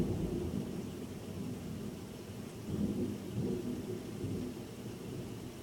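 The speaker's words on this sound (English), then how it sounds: "the storm has arrived" During a morning thunderstorm, low thunder rumbles roll in swells over a constant hiss of steady rain. The rumbles peak around the middle of the stretch and then ease back.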